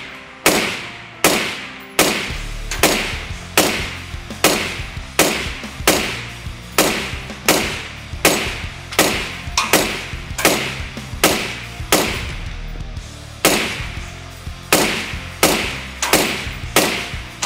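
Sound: suppressed 5.56 NATO rifle shots, Troy Kryptos suppressor

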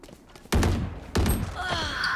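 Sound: gunfire during a firefight in the video game Valorant

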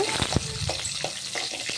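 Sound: shallots and garlic sautéing in pan

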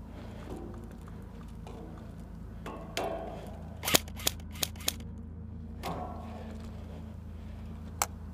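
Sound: airsoft guns firing during backyard game

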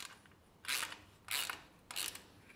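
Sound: tightening the Bow Buddy rock guard mount

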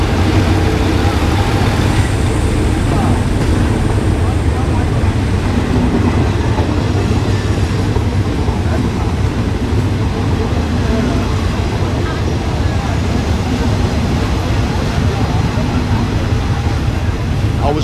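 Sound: morning train crossing the River Kwai Bridge

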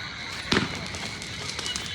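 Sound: firecrackers being burst

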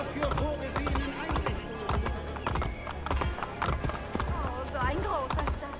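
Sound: horse galloping hooves in video game Assassin's Creed Brotherhood

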